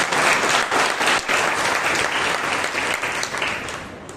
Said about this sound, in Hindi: Let's give a mighty clap to Jesus.